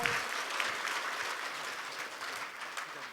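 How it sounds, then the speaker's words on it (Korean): An indoor audience gives sustained applause after a hospital doctor's health lecture on colorectal cancer, a dense, even wash of many hands clapping with no talk over it. "큰 박수 부탁드립니다"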